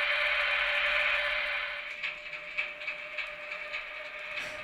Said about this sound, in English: The engine quickly approaches the platform, where the trainset TEE32 Parsifal is already waiting.